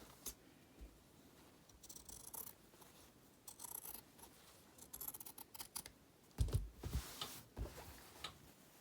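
Scissors snip through leftover fabric on a homemade AFNOR-style cloth face mask with a nose clip, a few soft intermittent cuts close by over a quiet room, with a louder cluster of snips toward the end.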